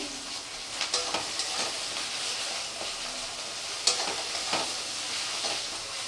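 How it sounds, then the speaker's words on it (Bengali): Onions frying in a pan with chili powder, salt and turmeric, a continuous close sizzle broken by several light scraping and stirring taps from a spatula, with no voices. "খুব ভালো করে যতক্ষণ না পেঁয়াজের কাঁচা গন্ধ যতক্ষণ না যাবে ততক্ষণ ভাজতে হবে।"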